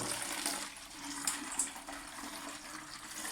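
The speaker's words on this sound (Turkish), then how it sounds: "Şimdi buradan suyu boşaltıyorum." Water drains from a fire sprinkler test rig, a faint continuous hiss and gush of flowing water with a few brief splashes, and no voices.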